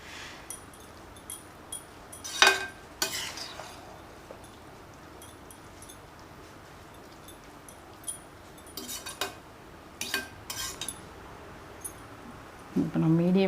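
A metal spoon scrapes and clinks against a pan while semiya is stirred together with tempered masala. Sparse, fairly close taps and scrapes come at irregular intervals over a quiet background.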